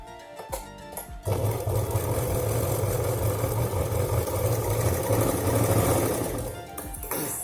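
A domestic sewing machine stitches lining cloth for a handmade purse, running steadily and fairly loud for several seconds with a rapid mechanical whir, after a few brief clicks and then slowing to a stop near the end.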